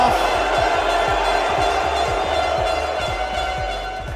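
Stadium crowd roaring and cheering throughout a Rocket League world championship match in Düsseldorf, a dense sustained wall of noise with rhythmic thumping beneath it.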